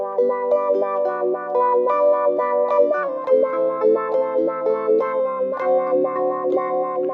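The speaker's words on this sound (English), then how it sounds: "And the sequence filter is what give me that wah wah wah sound." An electric dulcimer plays a steady melodic line through a sequence filter effect, giving a pulsing wah-like sweep on each note, with no voices.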